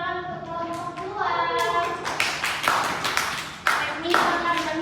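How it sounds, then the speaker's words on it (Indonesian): A class of fourth-grade primary school pupils claps for a group after a discussion, a short burst of applause building from a few scattered claps into a dense patter, moderately loud, with some voices mixed in. "kita berikan tepuk tangan untuk kelompok 2"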